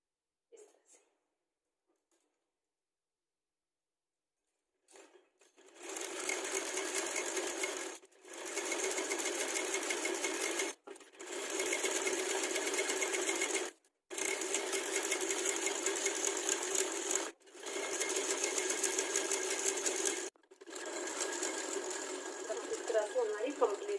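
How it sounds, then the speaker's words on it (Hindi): A sewing machine stitching palazzo pants runs in several loud, steady bursts of rapid mechanical whirring separated by short pauses, after a quiet opening. "अब हम सिलाई लगाएंगे।"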